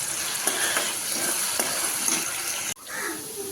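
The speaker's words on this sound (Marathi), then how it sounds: "3 कच्चे बटाटे घेतलेले आहेत, ते असे कच्चेच मी तेलात फ्राय करणार" Raw potatoes fry in hot oil with hing for sabudana khichdi, a dense steady sizzle close up with small crackles and a sharp clatter near the end before the sizzle settles.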